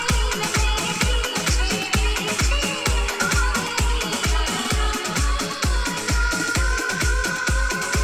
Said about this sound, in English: Now you can hear the song in the background.